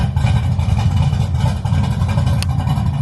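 A G-body car, its rear end fitted with a fabricated 9-inch, runs with a deep, steady engine rumble, loud and close, holding a fairly even idle throughout.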